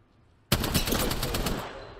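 A Spitfire machine gun firing in the video game Apex Legends, starting abruptly after a quiet half second, then a rapid steady stream of loud close shots for about a second before tailing off, with no talking.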